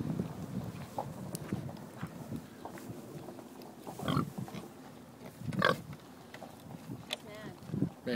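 Pigs in an outdoor pen at a market near Martinsburg, West Virginia, with scattered grunts and squeals amid outdoor noise and people talking nearby.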